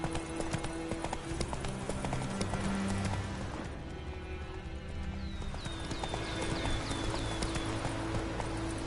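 Horse hooves clip-clop in a steady galloping rhythm through the fantasy video game Witcher 3, loud and close, with a brief whinny and game ambience around them.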